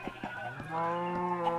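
A chicken in the survival game Minecraft gives a few short clucks over a steady, tonal background hum, fairly close and moderately loud.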